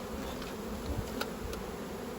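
Honey bees hum in a dense, steady drone around an opened beehive being worked in autumn, close and continuous with a few faint knocks, and no voices.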